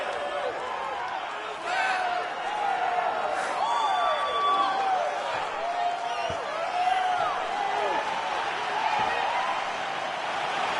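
A packed arena crowd at a UFC event at the Bell Center in Montreal roars and cheers continuously, with whistles and whoops rising over the din while a commentator talks on top.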